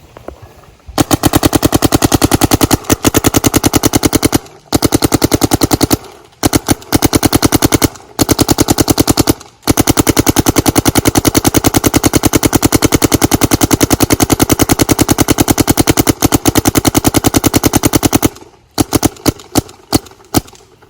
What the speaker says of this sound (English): We're going to be shooting this one first. We're putting a hopper of GI 2-star through this.